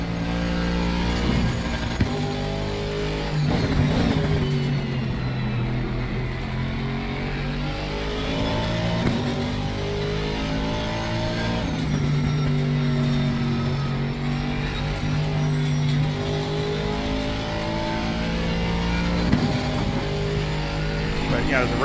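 An Aston Martin V8 GT3 racing at Kyalami in Assetto Corsa Competizione drones steadily throughout, its engine note rising and falling through gear changes while someone talks over it almost continuously.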